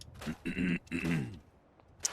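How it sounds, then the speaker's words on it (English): A close, gravelly throat clearing in two rough bursts, followed by quiet and a small click at the end. "Pardon me while I clear my throat."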